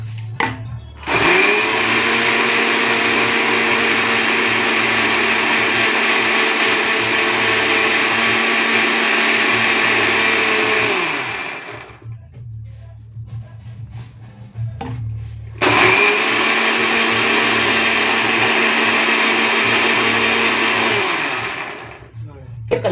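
A mixer grinder blends peanut chutney with salt and water, whirring loudly and steadily in two long bursts with a short pause between them, the motor dropping in pitch as it spins down.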